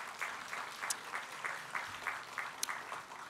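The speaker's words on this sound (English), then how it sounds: "let's give them a big round of applause" Audience applause at a festival opening ceremony, with steady, moderately loud clapping and rhythmic claps standing out from the crowd.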